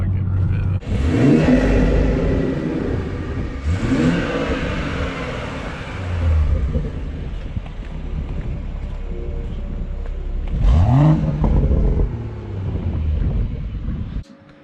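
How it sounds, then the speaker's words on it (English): BMW M240i fitted with an MST intake accelerating on the road, with repeated surges of engine revving and boost rising and falling over wind and road noise, and a voice talking at times. "Took this thing for a drive with the intake."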